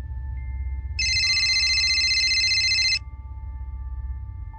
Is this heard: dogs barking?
no